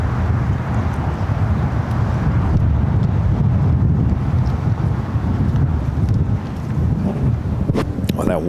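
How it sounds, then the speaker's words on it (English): Strong wind buffets the microphone outdoors near LAX airport, a continuous low roaring rumble that holds steady and loud for the whole stretch. "very windy here in the at least in Los Angeles or LAX area"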